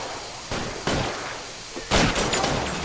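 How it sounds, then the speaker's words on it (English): Shotgun blasts in the L.A. Noire video game, three sharp broadband bursts, the last loudest and followed by a brief ringing tail, over low background noise. "Oh! Shotgun!"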